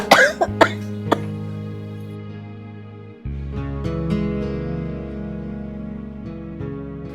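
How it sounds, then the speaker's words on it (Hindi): A woman coughs several times in quick, harsh bursts near the start, then goes quiet over a steady low background hum. "खांसते खांसते पेट में दर्द हो रहा बहुत ज्यादा है"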